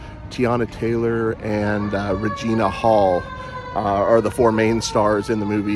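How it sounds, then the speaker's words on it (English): A wailing siren rises and falls in the background, heard steadily beneath a person talking close up. "excuse the siren there"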